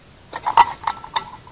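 Metal lid of a camping pot handled outdoors by a river campfire, giving a few light clinks and taps spread over a second or so, close and fairly quiet.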